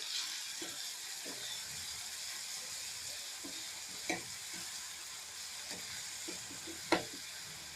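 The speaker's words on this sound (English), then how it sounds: "let us add our masala, the one which I have made the fine paste of this. Fry it." Masala paste fries steadily in a hot pan, giving a continuous close sizzle with occasional scraping stirs and a few sharper clicks of a utensil.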